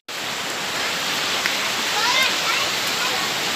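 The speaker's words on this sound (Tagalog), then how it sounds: "Oh, naririnig na namin yung ilog." River water rushing steadily nearby, a continuous broadband roar of flowing current along a riverside walk, loud and unbroken throughout.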